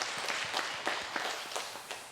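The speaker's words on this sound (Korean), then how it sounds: "우리 박수로 축하드립니다." A church congregation claps during a service, scattered hand claps at a modest level, fairly quiet and thin rather than a full ovation.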